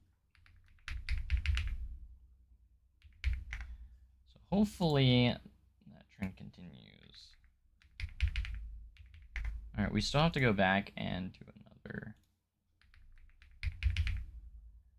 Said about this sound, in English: I don't know if you can hear the clicking of my